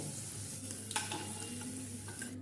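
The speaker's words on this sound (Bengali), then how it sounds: "দিয়ে আলুগুলো একটু ব্রাউন করে ভেজে নেব" Potatoes browning in mustard oil for raw-banana kofta curry, with a steady close sizzle and faint stirring clinks, no voices.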